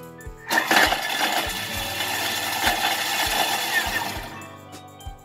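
A Thermomix chopping small garlic cloves at speed 7 for three seconds: a loud, high whirring blade burst with clattering as the pieces strike the bowl, then a quick spin-down, no voices.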